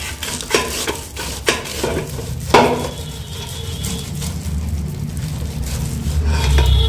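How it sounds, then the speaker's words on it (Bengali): Ripe palm fruit is mashed by hand to draw out the pulp for malpua, with wet squelching, irregular knocks against a bowl and a louder thump partway through, all close up. "এইভাবে আমি তালের পাল্পটা বার করে নেব।"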